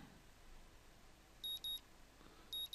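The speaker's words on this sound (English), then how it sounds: "Und der Wecker holt uns mal wieder aus dem Schlaf." An alarm clock in the visual novel Katawa Shoujo beeps in short electronic pips, two quick pairs then another pair after a pause, thin and bright over faint background hiss.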